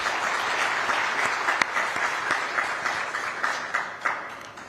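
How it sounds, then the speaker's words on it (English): An audience at a talk show on migration and development breaks into sustained applause, with a steady wash of clapping and a few sharper claps near the end. "Let's clap for them again."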